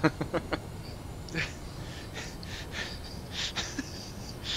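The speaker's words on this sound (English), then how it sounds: "It sounds like you're drinking out of a straw, but now I realize you're using a e-cig." Quiet, close puffs and draws from an e-cigarette, a few soft sucking and airy exhales with faint crackle, with no speech.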